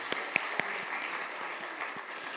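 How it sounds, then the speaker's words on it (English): An audience at a health equity policy summit applauds panelists after a roundtable discussion, a steady wash of many hands clapping at moderate distance with a few sharper claps near the start. "Can we give our panelists another well-deserved round of applause?"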